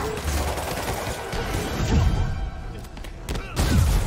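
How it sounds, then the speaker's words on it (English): Gunfire in the Spider-Man Remastered video game, a dense fusillade of shots and thuds running through the whole stretch, loud and close, with heavier bursts near the middle and end. "Gunshot coming."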